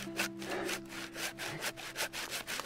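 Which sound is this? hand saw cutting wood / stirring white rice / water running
hand saw cutting wood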